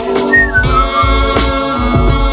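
A single person whistling a gliding, wavering tune over a rhythmic thumping musical backing, fairly loud and close.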